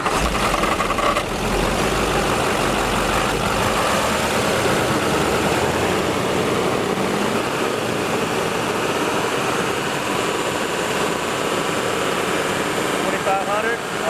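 Diesel engine of a 2005 Duramax revved and held near 2,500 RPM, a loud, steady, dense roar with broadband rumble that stays constant throughout, recorded up close.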